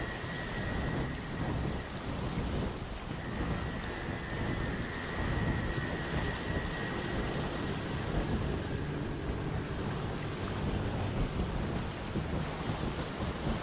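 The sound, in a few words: storm with rain and thunder at sea in video game Windbound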